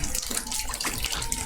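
Water splashes and runs steadily while a deceased person's body is being washed for burial, a continuous close wash with no pauses.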